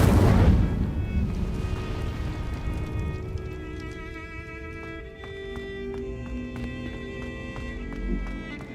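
Casting the Incendio fire spell in Hogwarts Legacy sets off a loud fiery blast that fades into a sustained rumbling roar with lingering shimmering tones for several seconds.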